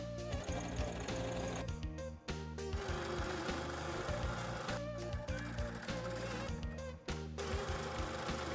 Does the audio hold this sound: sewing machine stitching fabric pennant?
yes